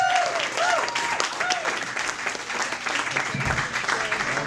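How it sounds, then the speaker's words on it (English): A club audience applauds a comedian at PJ O'Briens in Toronto, steady clapping filling the room for several seconds, with a few voices and whoops rising over it near the start. "Big round of applause for Joy Acharjee, everybody."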